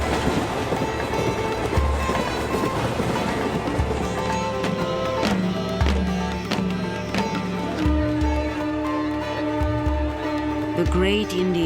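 An Indian railway train rolls along the tracks with rhythmic clickety-clack and occasional wheel squeal, a continuous loud rumble with narration spoken over it.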